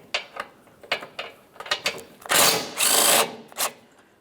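Close ratchet clicks in quick bursts while loosening 13mm bumper bracket mounting nuts on a 2012-2018 Nissan Altima, with two longer whirring runs in the middle, then a final short burst.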